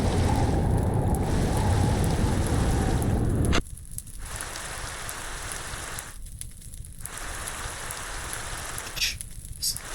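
Ember Storm weather in Minecraft from a weather datapack: a steady rain-like hiss fills the first few seconds, then drops to a fainter crackling patter with brief gaps, continuous throughout with no voices.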